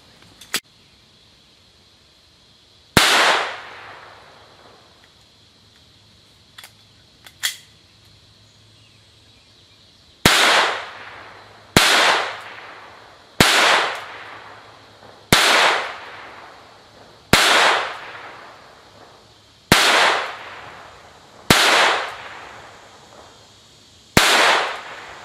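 An ATI GSG Firefly pistol, 2018 model in green, fires about ten sharp, loud shots, spaced a second or two apart, each with a short echoing tail, after one faint earlier crack.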